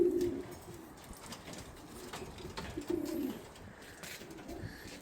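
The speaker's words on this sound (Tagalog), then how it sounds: "Pakita ko sa inyo mga kalapati niya." Pigeons in a champion racing loft, giving soft low coos twice at close range over a faint background of shuffling and ambient noise.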